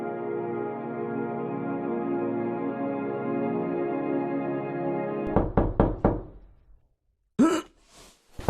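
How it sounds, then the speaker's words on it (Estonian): Knuckles rap on a door about four times in a quick cluster, loud and close, after a sustained tonal hum cuts off, followed by breathy vocal sounds. "Sõrmenukid koputavad mitu korda"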